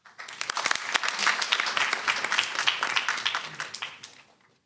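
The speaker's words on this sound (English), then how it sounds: "Round of applause for Econda." Sustained applause from a conference audience at a 2023 entrepreneurship pitch competition, dense steady clapping that swells and then fades out near the end.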